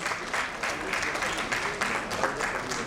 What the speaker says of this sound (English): this calls for a really loud round of applause